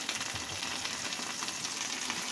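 Hake pieces go into a pan of lightly caramelised fried onion, giving an even, continuous sizzle and crackle at moderate volume, close by, with no talking.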